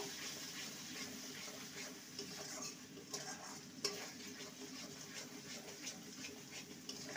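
Spices with Kashmiri chilli powder sizzle softly in a pan while being stirred and scraped, a quiet continuous fry broken by occasional spoon knocks and scrapes.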